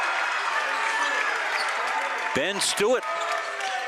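Crowd cheering at a boys' high school basketball game between Skowhegan and Gardiner in a gym, a steady roar with brief bursts and shouts, with a voice talking over it.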